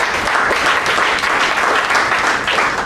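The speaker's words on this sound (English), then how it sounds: "Team Modi gave a big round of applause." A steady round of applause fills a meeting hall as members of a speaking club clap together, dense and even throughout without pause.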